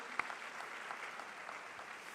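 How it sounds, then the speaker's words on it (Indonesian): A church congregation applauds during a Christmas service, giving a faint, steady wash of distant clapping with one sharper clap near the start and no voices over it. "kita tepuk tangan yang paling meriah bagi dia."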